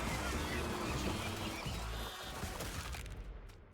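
Geese honk and quack in a busy video game battle against rats, a dense overlapping flock sound that runs steadily before thinning out and fading near the end.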